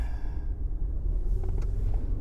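Mercedes S55 AMG driving, a steady low engine rumble heard from inside the cabin, fairly quiet with no talking.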